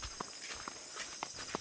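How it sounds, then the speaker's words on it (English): Footsteps walk at a steady, unhurried pace, each step a distinct soft thud over a constant hiss of background noise, with no talking. "The sounds of footsteps walking,"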